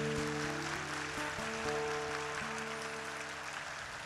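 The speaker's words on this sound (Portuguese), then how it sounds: "um aplauso para ele" A church gathering claps to welcome a visiting bishop, Dom Marconi, at a catechesis session; steady, moderate applause fills the room throughout over sustained keyboard or organ tones.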